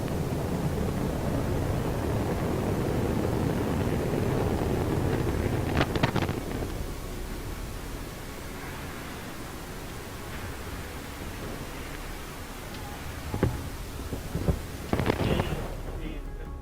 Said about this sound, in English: we have liftoff of Antares with the Orbit 3 mission delivering Cygnus on its 3rd